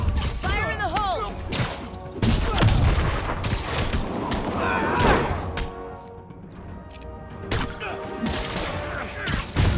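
Explosions and gunfire rattle through a Marvel's Spider-Man combat scene, with dense bursts of blasts, crashes and impacts, some loud and close, mixed with brief voice effects and busy fight noise.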